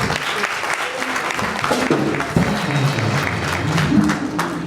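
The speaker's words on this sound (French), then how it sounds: "Acclamons bien fort" An audience applauds at an award ceremony in the Memling hall, with loud, sustained clapping and crowd noise throughout and a few voices mixed in.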